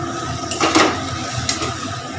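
Chalta chutney sizzles in a pan after tempering with spices, a close, steady frying hiss with a few soft utensil scrapes and taps over about two seconds, with no talking.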